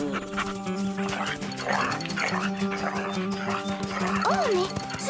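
Hunting dogs bark and whimper in short yips and whines over steady background noise, with voices talking throughout.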